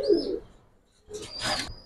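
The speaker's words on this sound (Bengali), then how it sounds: "তো এটা একটা নর কবুতর" Male pigeon giving a short, soft cooing call near the end, after a brief quieter bird sound at the start, close and moderately loud with no talking.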